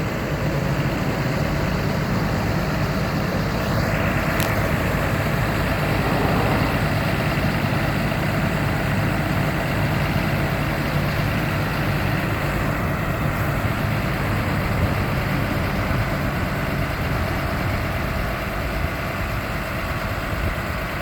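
A 2010 Ford F-750 Altec forestry bucket truck with a 60 ft boom idles steadily, a continuous diesel rumble that stays even for the full stretch with no talking.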